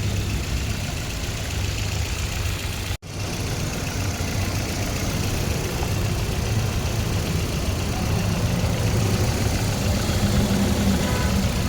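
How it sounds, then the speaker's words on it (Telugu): A Maruti Ertiga car engine idles just after starting, with a steady, close, even hum broken by one instant dropout early on. "అండ్ ఫైనల్లీ మన ఇంజన్ స్టార్ట్ చేసేసాము"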